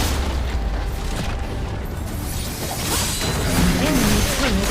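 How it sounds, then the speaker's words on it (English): Enemy turret destroyed in the mobile game League of Legends: Wild Rift, a dense booming crash and mechanical clatter throughout, with game tones chirping near the end. "Enemy turret destroyed."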